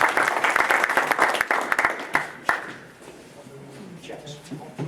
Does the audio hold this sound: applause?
yes